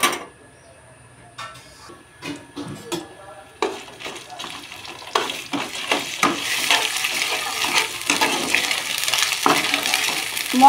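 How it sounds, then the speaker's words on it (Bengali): Ginger, cumin and dried chilli paste frying in a pan, with soft sizzling that builds and grows denser over time, broken by scattered clinks and scraping stirs against the cookware. "মশলাটা একটু কষে নেব।"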